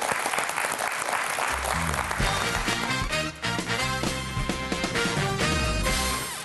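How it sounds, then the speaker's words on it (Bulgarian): A studio audience on a television game show claps a departing contestant off. The applause is soon joined and then dominated by loud, swelling theme music. "Изпращаме те с аплодисменти."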